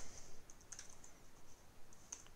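Keys clatter on a computer keyboard as a command is entered, quiet irregular clicks in short bursts, heard close and faint with no talking.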